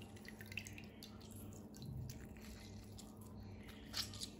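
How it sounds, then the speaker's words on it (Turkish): Peeled quinces dropped one by one into a bowl of water with lemon juice, giving faint soft drips and small splashes at close range with no talking. "Soyduğum ayvaları suyun içerisine bırakıyorum."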